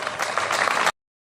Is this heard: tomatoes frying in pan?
no